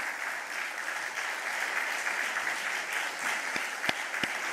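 Congregation at a Sunday morning worship service at a church in Daegu claps continuously during a scholarship award ceremony, a steady, even applause that sounds somewhat distant, with a few sharper claps standing out near the end.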